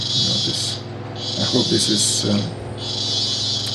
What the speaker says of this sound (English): I'm sorry about the cicada.